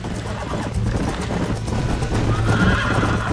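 A horse in Red Dead Redemption whinnies and neighs over steady clip-clopping hooves, loud and close, with a constant low rumble of galloping throughout.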